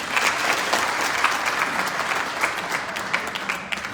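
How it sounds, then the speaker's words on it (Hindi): An audience at a hotel seminar claps together, giving dense, steady applause for about four seconds with crisp individual claps standing out and no speech over it. "तालियां बजाएंगे."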